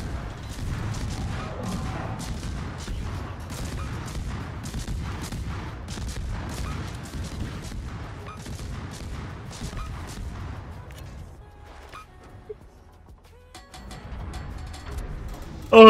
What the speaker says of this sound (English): He starts some blind fire.